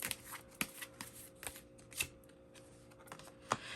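Tarot cards being shuffled close by, quiet riffling with a few sharper snaps and taps scattered through, and no one speaking.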